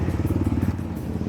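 High-displacement motorcycles set off together on a group breakfast ride, their engines giving a loud, close, throbbing rumble with a rapid pulsing beat and no talk.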